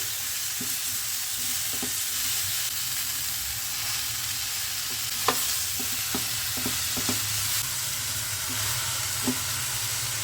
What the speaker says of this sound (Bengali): এবারে শাকটা ওপর থেকে দিয়ে দিই ওপর নিচ করে দিই